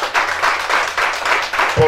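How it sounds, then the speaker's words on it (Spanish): An audience at a singing contest claps in steady bursts, a loud mass of applause pulsing rhythmically, with a voice briefly audible under it. "yo quiero que le demos un aplauso fuerte a todos esos artistas que se encuentran en este espacio"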